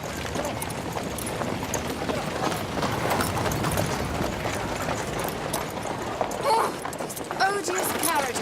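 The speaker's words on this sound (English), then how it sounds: "Odious carriages, I detest them." Horse-drawn carriages passing along a street in Bath, with steady clip-clop of hooves and rolling wheels under people talking throughout.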